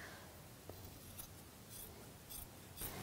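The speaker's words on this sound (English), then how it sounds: "So I'm just going to cut it right here." Quiet scissors snipping through quilt fabric, a few soft crisp cuts spaced irregularly over a faint background, close and with no speech.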